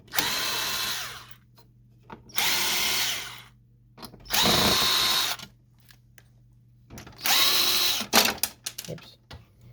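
Power drill backing screws out of an HP Photosmart 6520 printer laid on its side: four separate bursts of whirring, each a couple of seconds long, with quiet pauses and faint handling clatter in between.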